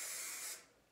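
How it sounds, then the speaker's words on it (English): A single steady hiss of flexible-hold hairspray misted onto hair for about half a second, close and bright, then cutting off. "I'm gonna spray it with the flexible hold hairspray or the working hairspray"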